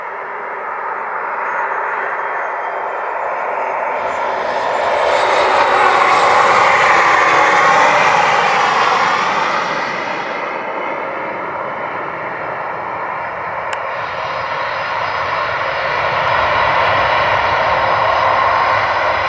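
A jet airliner approaches and lands on runway 25 at Montego Bay, Jamaica, its engine roar swelling to a loud peak as it passes and then settling into a steady rumble on the runway.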